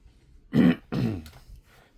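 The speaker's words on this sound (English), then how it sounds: "I had to clear my throat and grab a drink of something" A man clears his throat twice in close succession, two rough, gravelly rasps heard up close in a quiet room.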